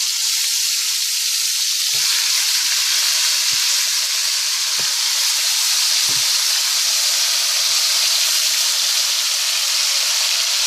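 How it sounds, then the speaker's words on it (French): Meat shanks sizzle loudly in hot oil in a hot pot, a dense steady crackling hiss that fills the whole stretch, with a few soft low knocks from stirring or settling. "dans un chaudron bien chaud, j'ai ajouté un peu de l'huile. Là, je vais faire sauter les jarrets"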